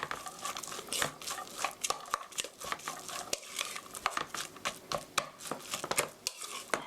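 Hamburger rice bowl ingredients being stirred together with a utensil in a bowl or pan, producing quick repeated scraping and clinking strokes, fairly close and steady with no talking.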